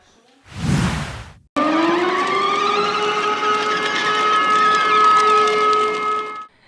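An air raid siren rises in pitch and then holds a steady wailing tone for several seconds, just after a brief burst of noise, played in a public square installation.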